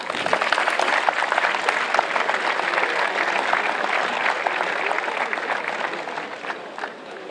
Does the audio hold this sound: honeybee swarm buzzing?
no